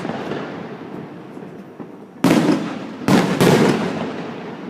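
Swiss National Day fireworks burst in the distance, heard from a sixth floor, a few sharp booms followed by crackling rumble, with softer pops beforehand.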